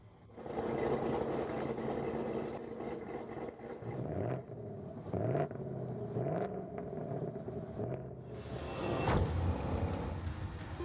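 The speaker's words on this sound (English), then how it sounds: "The engine's rev." Car engine in The Grand Tour video game revving up and dropping back to idle, a steady mechanical drone with rising and falling pitch sweeps, loud and close throughout.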